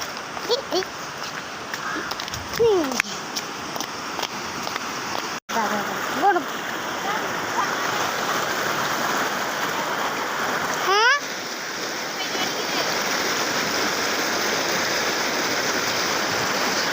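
A swollen river after heavy rain rushes past in a steady, loud roar of flowing water, continuous and close throughout, with brief splashes.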